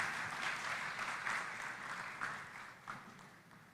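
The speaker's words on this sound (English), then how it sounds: "let's give her a round of applause" A round of applause from the audience at the 18th COMESA Business Forum and Exhibition at KICC, steady moderate clapping that fades slightly toward the end.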